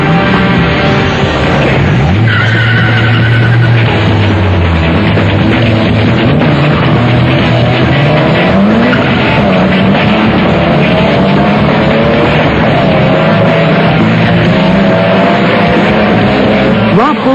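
Street race cars scream down a Toronto quarter mile, loud engine roar climbing in pitch through gear changes with a noticeable break and shift partway, dense and continuous with crowd noise and talk mixed in.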